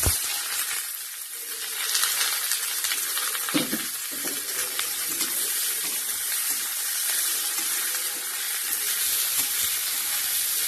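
Whole dried red chilli and radish frying in hot oil in a home kitchen, a steady loud sizzle with spattering and occasional stirring clinks throughout.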